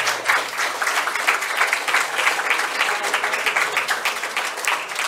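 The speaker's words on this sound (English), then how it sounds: "I think they deserve more applause" Audience at the EduWiki 2023 conference opening session applauds steadily, a dense and even patter of many hands clapping at moderate volume for about five seconds with no talk over it.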